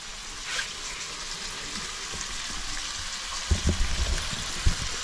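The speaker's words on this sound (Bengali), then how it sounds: "মাংস রান্না হচ্ছে এই চুলোর মধ্যে" Meat frying on a clay earthen stove in a kitchen in Assam, a steady broadband sizzle throughout with a few louder stirring knocks and spatters near the end; no talking.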